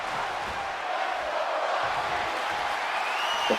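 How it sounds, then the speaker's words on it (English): A steady, loud roar from a large arena crowd in the WWE 2K25 wrestling game during a women's one-on-one match, with cheering and chanting swelling continuously and no talk over it. "The crowd is chanting for Roxanne Perez."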